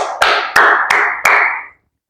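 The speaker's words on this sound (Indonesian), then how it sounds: "Tepuk tangan untuk diri kita semua." An audience at a student oration contest in Madura claps in unison: four sharp, loud crowd claps in a steady rhythm, each ringing out briefly before the room falls silent.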